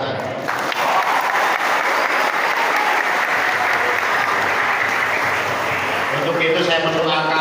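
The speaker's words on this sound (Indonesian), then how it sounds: "Tepuk tangan." Loud, continuous applause from a hall full of pesantren students during an official visit, dense clapping that holds steady for several seconds before thinning near the end.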